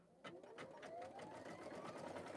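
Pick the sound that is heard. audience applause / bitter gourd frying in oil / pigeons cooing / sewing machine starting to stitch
sewing machine starting to stitch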